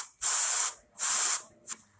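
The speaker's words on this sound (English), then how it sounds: "spray the fan" Compressed air duster sprayed at a computer fan: two long, loud hissing bursts followed by one short puff, close up, with no talking.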